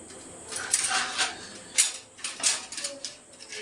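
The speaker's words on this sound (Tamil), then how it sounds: "இப்போ நம்ம வெங்காயத்தை போட்டுக்கலாம்." Chopped onions tipped into hot, bubbling oil in a pan while cooking Yippee noodles, giving bursts of crackling sizzle that flare and fade several times, close by with no talk.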